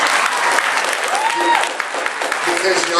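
Audience applause fills a room at a Primerica business gathering: a steady, dense wash of clapping with a voice talking over it throughout.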